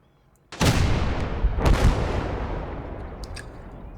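Two heavy booms from 122 mm and 107 mm cannons in the Gates of Hell war game, about a second apart, each a loud, close blast followed by a long rolling decay.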